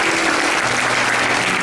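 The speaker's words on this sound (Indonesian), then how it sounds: "Saudara, berikan tepuk tangan buat Tuhan kita." A church congregation applauds during a Good Friday sermon, a full, even roar of many hands clapping that holds steady from start to finish.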